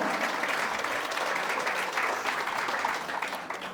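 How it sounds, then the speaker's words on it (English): Parents at a preschool annual event clap together in a steady, moderately distant wash of applause that runs without a break. "A huge round of applause for ma'am. Parents, please clap your hands together."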